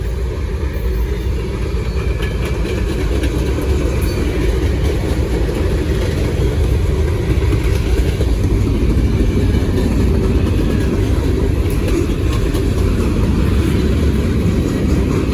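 Norfolk Southern freight train of empty center beam cars rolling past at close range, a steady loud rumble and rattle of wheels and couplings that fills the whole stretch without letup.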